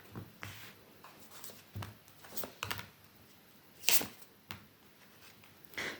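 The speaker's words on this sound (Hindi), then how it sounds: "एक लास्ट शफल ले लेती हूँ, देखती हूँ क्या है इनके एक्शन।" Tarot cards being shuffled by hand, heard as a series of short papery riffles and soft flicks spaced irregularly over a few seconds, with a sharper burst near the middle and a quiet room between.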